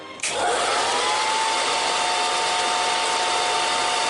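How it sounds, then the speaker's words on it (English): A hairdryer switches on abruptly and runs with a loud, steady whooshing whine that holds constant to the end. "It's a hairdryer."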